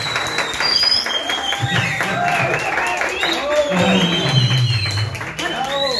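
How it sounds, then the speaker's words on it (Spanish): A classroom audience claps in a dense, steady burst of applause while voices talk and cheer loudly over it. "Démosle un aplauso."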